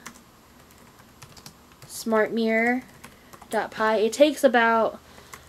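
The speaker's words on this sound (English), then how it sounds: "So you type in, you go to the Smart Mirror directory, you type in Python" A computer keyboard clicks out a command in soft, scattered keystrokes, with a clear spoken voice breaking in over the typing partway through.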